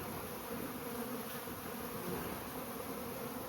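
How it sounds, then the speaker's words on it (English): A swarm of honey bees in a bee yard hums continuously, a dense, close droning buzz of many insects that holds steady without pause. "This is a lot of bees."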